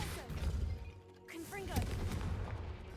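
Confringo blasting spell cast in Hogwarts Legacy, a couple of sharp fiery bursts with crackling impact amid busy game sounds, moderately loud.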